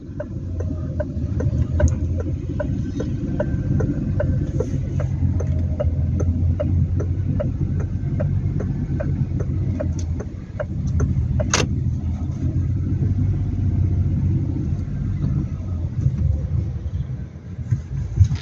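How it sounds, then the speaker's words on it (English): A car reverses slowly into a parking spot in an L-shaped manoeuvre, its engine a steady low hum and rumble throughout, with faint ticking sounds and no talk. "So I've turned my steering wheel all the way to the right, so I'll be backing up into this spot."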